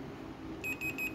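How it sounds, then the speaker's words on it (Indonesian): A multimeter's continuity buzzer beeps while testing a Vespa lamp coil, giving a faint, high, pulsing tone in quick short bursts for under a second. "Nah, jadi kalau bunyi seperti ini berarti nyambung teman-teman."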